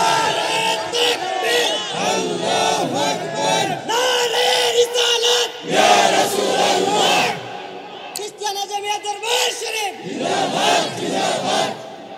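A crowd at a gathering chants a slogan in loud, rhythmic unison bursts, a leader's call alternating with massed shouted responses several times, close and energetic throughout.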